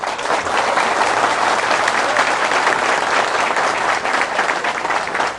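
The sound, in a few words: applause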